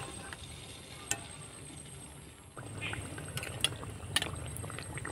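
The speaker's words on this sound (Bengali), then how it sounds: "আবার আমি বাটিটা গরম তেলের মধ্যে দিয়ে দিব।" Ripe palm malpua batter frying in a bowl of hot oil, a soft steady sizzle that swells after a brief lull, with a few light clinks from the bowl and ladle, close by.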